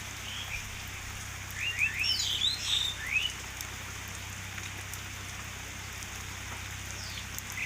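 Rain falls steadily outside a house in wet monsoon weather, a soft, even patter with a few faint bird chirps rising briefly near the middle.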